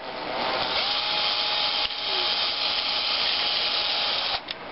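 A continuous, loud mechanical whine of a power drill with a long bit boring into a Nerf Raider plastic tube, running steadily for several seconds, with a couple of brief dips before it cuts off.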